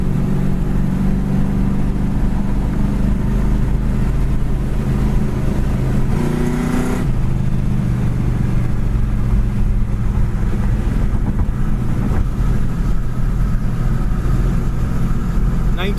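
A 1972 Chevy Nova Super Sport on the road makes a loud, steady engine drone with road rumble and heavy wind buffeting, and a voice may speak faintly over it.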